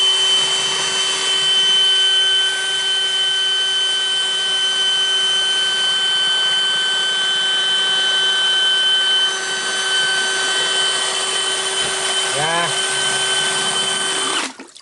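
A steady, high-pitched motor whine from an electric drill driving a 3D-printed jet pump drones for about fourteen seconds, spinning continuously, before cutting off abruptly at the end.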